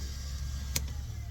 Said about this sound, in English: That was just the exhaust fan that I installed behind the license plate.